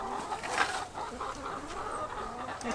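Backyard hens cluck and murmur softly in a low, continuous chatter outdoors, moderately close, with no clear talk.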